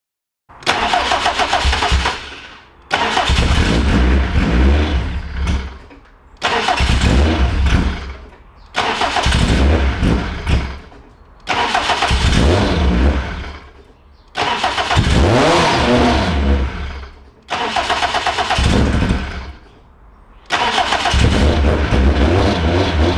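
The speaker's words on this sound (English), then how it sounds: "I need to start the car." EPIC 620R car engine being started in the morning, cranking and catching in about eight repeated bursts, each one revving briefly and then cutting out, loud and close with short gaps of quiet between attempts.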